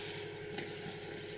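Water runs steadily from a tap into a cooking pot, a soft, continuous splashing stream with no talk over it.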